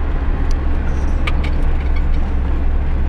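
A car drives along a village road at about 45 km/h, heard from inside as a steady low engine and road rumble with a few faint high clicks and ticks over it.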